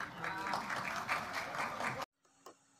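Applause from the floor of a parliamentary session, about two seconds of dense clapping under a faint voice, then an abrupt cut to near silence.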